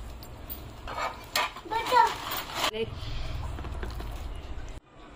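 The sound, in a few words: mixing raw mango pickle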